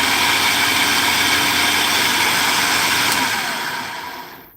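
A kitchen blender spins in a quick burst, a loud steady broadband whir with no talking that winds down and fades out at the end.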